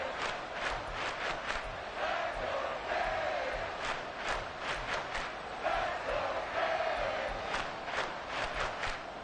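A packed NFL football stadium crowd roars steadily during a Dolphins game with the Bills driving near the goal line, a dense continuous wall of cheering with rhythmic surges and no clear voices standing out.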